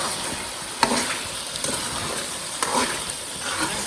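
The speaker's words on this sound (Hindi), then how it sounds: "नमक को भी अच्छी तरीके से मिक्स करते हैं।" Salt being stirred into mutton karahi in a pan, a soft steady sizzle with faint scraping strokes of a spoon, a few louder clicks against the pan, close and continuous with no talk.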